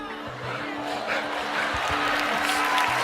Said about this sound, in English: everyone's smiling and clapping